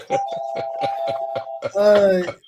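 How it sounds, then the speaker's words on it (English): A home doorbell sounds with a run of rapid repeated chimes followed by a longer tone, heard under someone talking during a live stream. "Every time I stream, the doorbell rings."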